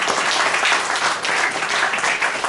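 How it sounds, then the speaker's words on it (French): An audience at an evening Torah study gathering breaks into loud, dense applause, a continuous close wash of many hands clapping with no talk over it. "on applaudit bien fort."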